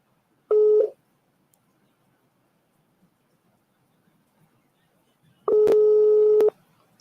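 Telephone keypad tones dialing a number, a short beep followed after a long pause by a longer, steady tone sequence, close and clear in an otherwise quiet background.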